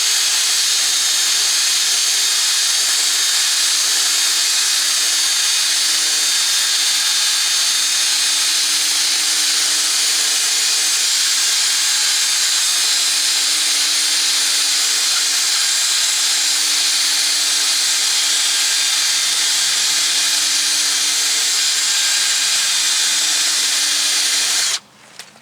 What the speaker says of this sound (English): I use my drill with a little brass brush on it